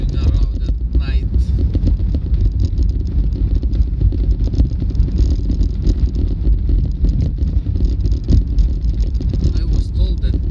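A car driving at night through a neighborhood, heard from inside as a steady, loud road rumble and engine drone with wind noise, continuous and unbroken.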